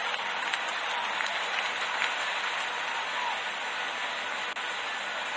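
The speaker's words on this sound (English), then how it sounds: "all of Lords there applauding Morgan to the crease" A packed cricket crowd at Lord's applauds the World Cup-winning captain Eoin Morgan walking out to bat in a Middlesex vs Surrey T20 Blast match, a dense, steady roar of clapping that holds evenly throughout.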